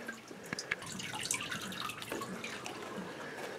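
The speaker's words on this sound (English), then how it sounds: "I think the next step is going to be down here, drain the bottom of the boiler out." Water drips and trickles from the drained bottom of a Dunkirk Empire tankless boiler, a quiet, irregular patter of drops with a few sharper splashes and no talk over it.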